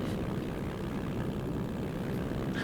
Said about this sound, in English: So we're just going to sit here and let you all listen to some engine.